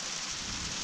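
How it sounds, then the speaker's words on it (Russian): A steady, dense hiss of hail pattering on surfaces, faint and continuous, with no voices. "Вот град, смотрите, град какой."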